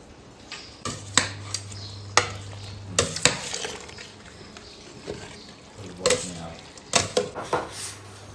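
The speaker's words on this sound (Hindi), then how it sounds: "परंपरागत तरीका है ये तड़का लगाने का, बघारने का उसका।" Tadka tempering for raita sizzling in a pan: bursts of crackling, hissing sizzle with metallic clinks and stirring against the pan, loud and close, recurring in several surges over a low hum.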